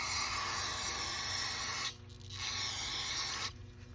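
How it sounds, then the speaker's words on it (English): Two bursts of hissing aerosol carburetor cleaner spray into a snowmobile carburetor, the first long and the second shorter, close up with a brief pause between them. "Spray it to these holes."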